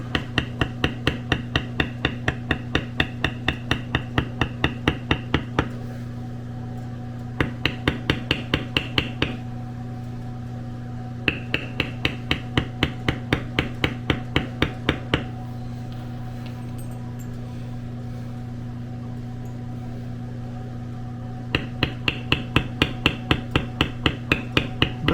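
A beveling tool is tapped on leather while tooling a square coaster pattern, making quick, even, close taps in several bursts with short pauses, over a steady low hum.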